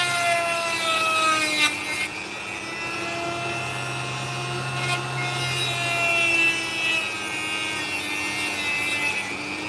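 A blade grinds steadily through opal rock, giving a continuous close rasping whine with faint tonal overtones and a couple of brief scraping bursts, with no talk.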